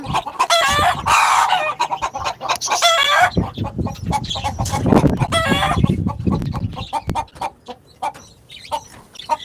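Native country hens on a Chennai rooftop cluck and squawk loudly nearby in excited bursts after laying an egg, with scattered shorter clucks and some rustling between calls.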